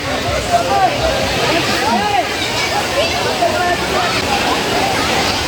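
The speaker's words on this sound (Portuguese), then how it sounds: "Cachoeira passando ali do lado" A waterfall beside a forest trail in Jaceruba, Nova Iguaçu, Rio de Janeiro, gives a steady, loud rush of falling water, with faint voices underneath.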